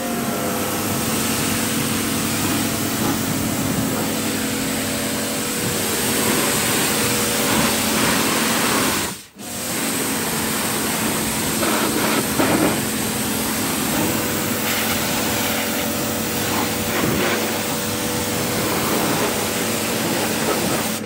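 New quad bike engine running steadily while riding off-road at about 30 km/h, a fairly quiet continuous drone with wind noise, briefly cutting out for a moment midway before resuming.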